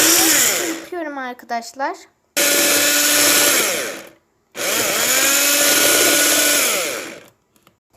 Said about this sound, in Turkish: Mikserimi aldım.